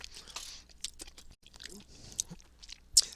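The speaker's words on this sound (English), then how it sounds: "poor guys in the Twitch chat can hear me chewing on my salted caramels." Someone chews salted caramels right by the microphone, giving soft, sticky, crunching bites in an uneven rhythm, with quiet pauses between mouthfuls and one sharper crunch near the end.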